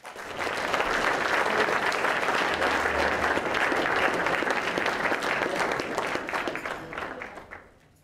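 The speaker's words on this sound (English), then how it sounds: "please give a warm round of applause" Sustained applause from a large crowd at a commencement ceremony, steady and loud throughout before tapering off at the end, with no talking over it.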